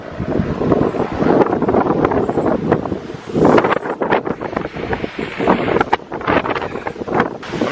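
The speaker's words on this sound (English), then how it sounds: "I'm not sure if you're gonna be able to hear us because of the wind" Strong hurricane wind gusts hit an Orlando, Florida house during Hurricane Irma, buffeting the microphone in loud uneven blasts with rustling debris and sharp knocks throughout, no speech.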